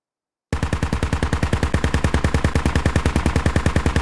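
Video game gunfire aimed at a Humvee on a bridge: a fast, steady, loud burst of automatic shots starts suddenly after a short silence and keeps going without a break.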